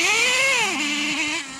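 A Traxxas Slayer nitro RC truck engine revving hard, a high buzzing whine that rises, dips and settles into a steady lower drone, close and loud, about a second and a half with no speech.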